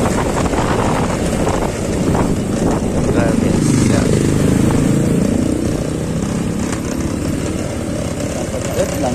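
A loaded motorcycle rides along a busy road past a market, racing another motorbike ahead. Its engine drones steadily and closely under heavy wind buffeting, and another vehicle sweeps past midway.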